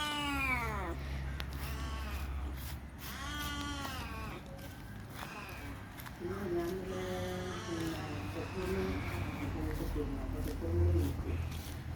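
A cat meows in a few drawn-out, rising and falling calls at a farm, mixed in with nearby human voices over a steady low hum.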